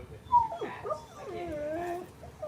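Dogs whimpering and yipping indoors, a few short faint whines and high cries over a quiet background.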